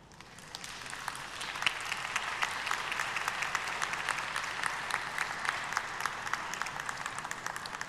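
Applause from a sizable audience at a forum plenary session in Uruguay builds quickly and holds steady, many hands clapping at once with no voices standing out.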